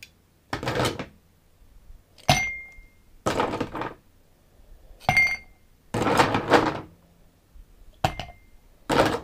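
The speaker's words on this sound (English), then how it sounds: "First thing, obviously, put ice in your glass." Ice cubes dropped into a glass for a Long Island iced tea cocktail, several separate clinking, clattering bursts spaced a second or so apart, close and fairly loud with quiet gaps between.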